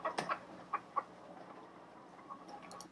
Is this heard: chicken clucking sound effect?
yes